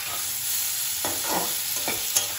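Thin-sliced eggplant fries in a pan, a close, steady sizzle broken by several scraping strokes of a spatula stirring the pieces and a small knock near the end, with no speech.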